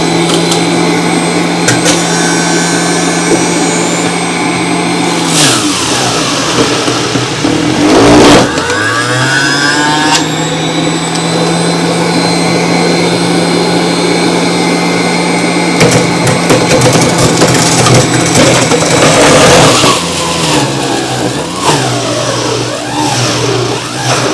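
An electric juicer runs while juicing, a loud continuous motor whine close to the mic that dips and strains as produce is pushed in, then recovers, no talking.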